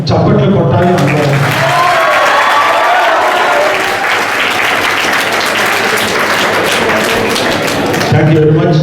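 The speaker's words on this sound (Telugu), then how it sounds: "దానికి సాక్ష్యం మనందరం చప్పట్లు కొట్టాలి అందరం" An audience claps together at an awareness meet on a single major programme held by Rao's Educational Institutions, dense steady applause filling the room for several seconds, loud and close, with a voice speaking briefly at the start and end.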